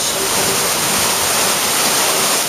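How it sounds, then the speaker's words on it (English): Heavy rain pours down at night by a porch, a loud, dense, unbroken roar of falling water with no gaps. "So all you're seeing is pitch black and listening to pouring rain."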